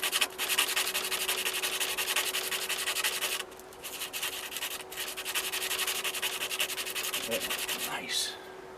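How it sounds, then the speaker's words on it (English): A dual-action sander fitted with worn 80 grit sandpaper scuffs a battery cable end for a Farmall tractor, giving a steady, close, rasping rub that runs continuously, dips briefly and then resumes. "80 grit sandpaper from my DA sander"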